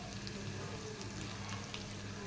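Urad dal, curry leaves and garlic fry in hot oil for gongura chutney, producing a continuous, close crackling sizzle with faint stirring underneath.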